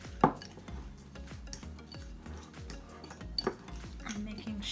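Meat stuffing being worked together with breadcrumbs and egg in a bowl for Italian stuffed peppers, giving a run of soft, rhythmic scraping and clinking strokes close by, with one sharper knock near the start.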